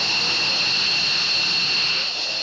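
An Air National Guard fighter jet taxiing at Otis Air Force Base on Cape Cod, a loud continuous whining roar with a steady high-pitched turbine tone, close by and without voices.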